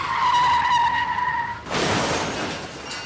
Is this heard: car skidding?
yes